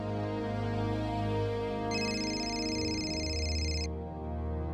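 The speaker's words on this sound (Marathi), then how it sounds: "फोन वाजतोय" A phone ringing indoors, a bright electronic chiming tone that sounds for about two seconds in the middle of a sustained musical background score, with no talking.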